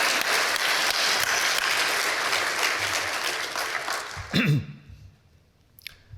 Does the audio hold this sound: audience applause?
yes